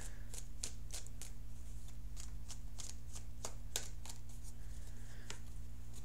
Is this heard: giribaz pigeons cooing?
no